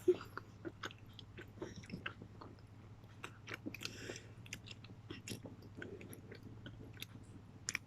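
Close, soft chewing of food during a meal, with steady wet bites and small crunches repeating irregularly over a low constant hum, no speech.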